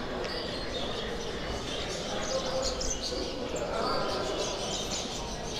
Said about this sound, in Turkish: Çanta çanta kuşlar.